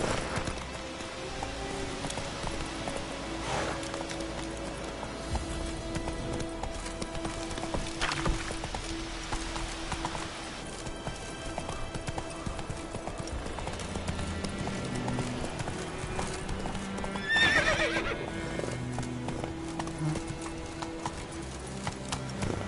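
Hooves of the horse Roach clip-clop in a steady galloping rhythm in The Witcher 3, with a brief neigh partway through over a constant game soundscape.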